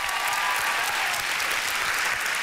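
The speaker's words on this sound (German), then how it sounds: "Das ist dein Applaus." A studio audience applauds for caller Atze Schröder on a German radio-style comedy show, a dense, steady wash of clapping that holds loud and even throughout with no talk.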